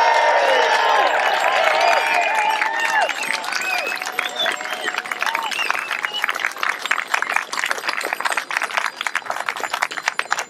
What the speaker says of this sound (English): can you give the other members of the pop team an absolutely huge cheer?